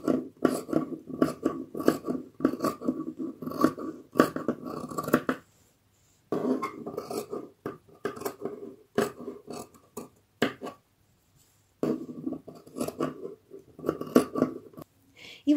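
Scissors snipping along a fabric pattern piece for a handmade gift, a run of close, crisp crunching cuts in bursts with brief pauses between strokes.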